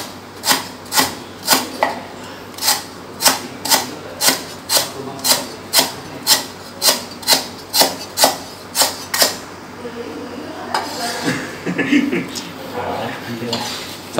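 A knife minces lemongrass rapidly on a wooden board, about fifteen sharp even strokes in a steady rhythm, then softer scraping and rustling.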